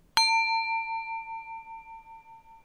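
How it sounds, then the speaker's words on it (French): A Tibetan offering bowl is struck once and rings like a bell, with a clear sustained tone that slowly fades and pulses gently over a few seconds, heard alone in a quiet room. "Donc voici le son du bol à offrande."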